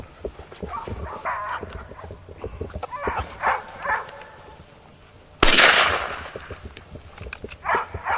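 A .410 shotgun is fired during gun-dog training at a kennels dogs-and-doves show: one sharp, loud report cracks out midway, amid light scuffling and tapping movement sounds before and after.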